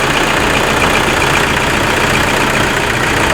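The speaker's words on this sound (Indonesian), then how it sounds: "Suara mesin normal, nggak ada yang aneh-aneh." A Toyota Innova with a 2KD diesel engine idles steadily, a dense continuous clatter and hum filling the whole stretch at close range, with no voices over it.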